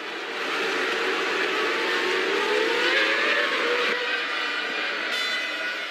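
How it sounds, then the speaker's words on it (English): Formula One race cars from the 2000 season roar past in a steady, loud engine drone, with one rising pitch sweep as a car accelerates and a brief high whine near the end, with no talk. "Here, he led away from the start, but was then overtaken by Mika Häkkinen"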